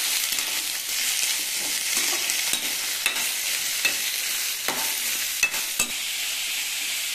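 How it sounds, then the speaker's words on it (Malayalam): Tomatoes and tamarind sautéing in oil give a dense, steady sizzle that fills the pan, with occasional scraping and tapping from a stirring utensil. "ഇനി എല്ലാം കൂടി നന്നായിട്ടൊന്ന് സോഫ്റ്റ് ആവുന്നവരെ വഴറ്റിയെടുക്കാം."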